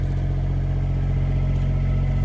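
A 1965 GM 4106 diesel bus conversion idling with its exhaust pipe raised, a steady low throbbing engine drone with constant loudness and no revving, close by and alone.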